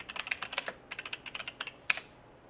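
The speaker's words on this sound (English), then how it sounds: "Okay, say that again. I was typing." Fast, light clicks of typing on a computer keyboard during a Star Citizen gaming session, close and steady with a brief pause and a final harder keystroke, and no voices.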